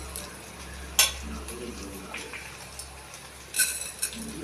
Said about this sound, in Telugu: ధనియాలు వేసుకుందాం. కొంచెం కలర్ మారాలి.